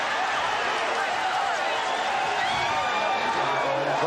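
An arena crowd reacts in a dense, continuous roar as the Bulls win the 1991 NBA championship against the Lakers in Game 5, with a broadcaster talking over the noise.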